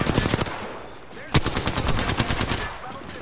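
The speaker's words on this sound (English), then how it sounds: "Opening fire on the enemy." Rapid machine-gun bursts ring out in a video game firefight, a dense rhythmic volley with one sharp louder shot partway through, while players talk over the shooting.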